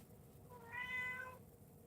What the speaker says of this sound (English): You guys can probably hear the cat.